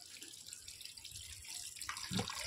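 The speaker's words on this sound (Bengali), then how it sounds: "মাছগুলো আমি ধুয়ে ফেলছি।" Tap water runs softly as prawns and catla fish are rinsed at a home sink; a quiet, close trickle with light splashing that swells slightly toward the end, no voices.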